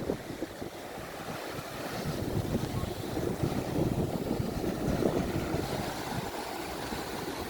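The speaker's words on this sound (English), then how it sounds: "It is windy here and it's spitting the rain to be honest with you" Wind and waves on Fuengirola beach on a blustery, drizzly day: steady gusts buffet the microphone over a continuous rumble of surf, with no talking.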